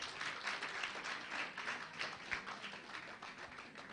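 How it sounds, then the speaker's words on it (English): A crowd claps steadily throughout, a dense, even patter of applause without pause. "clap for yourselves."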